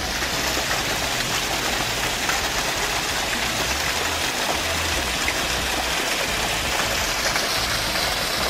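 A small waterfall cascades steadily near La Bourboule, a continuous broadband rush of water that stays close and even in level throughout.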